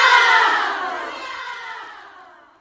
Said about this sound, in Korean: 이렇게 화이팅을 외치며 팀원들의 사기를 붙돋곤 했습니다.